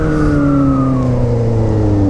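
A steady, loud Honda Hornet motorcycle engine drone with a stainless steel 2.5-inch exhaust, slowly falling in pitch like easing off after revving, running continuously without pause.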